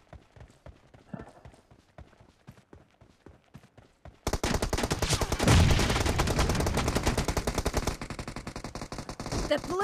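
PUBG Mobile gunfire in a team deathmatch: sparse sharp shots at first, then a loud, dense burst of rapid automatic fire running continuously to the end.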